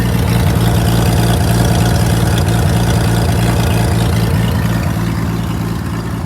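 A WW2 Clark tractor engine and gearbox run steadily, a loud, close, low throbbing drone with a regular mechanical pulse and no talk.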